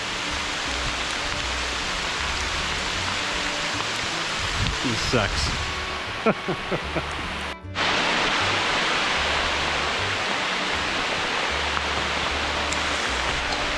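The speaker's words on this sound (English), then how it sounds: "we are in fact getting hail" Small hail falls during a backpacking trip at Pictured Rocks, making a steady pattering hiss on the ground and gear around the camper. A voice speaks briefly mid-clip, and the sound cuts out for a moment before resuming.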